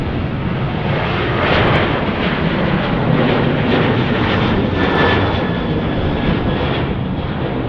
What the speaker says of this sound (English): We got a southwest departure here. Headed down the runway. 737-800.